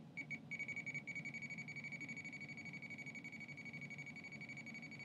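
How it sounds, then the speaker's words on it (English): A rapid run of faint electronic beeps from a pressure sensor, rising with PSI on pneumatic retracts, evenly spaced and steady, then a held tone continuing quietly over a low background hum. "listen to the beeps that correspond to PSI as it goes up"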